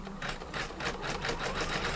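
An embroidery machine stitches diagonal basting lines through three hooped layers with a fast, even mechanical rattle, close and steady, with no speech.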